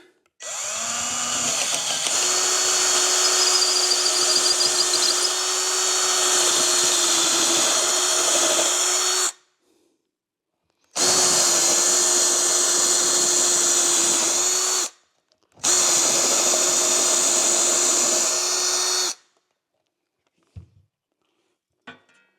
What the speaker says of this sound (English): it's not my favorite thing to drill through wood with just standard bits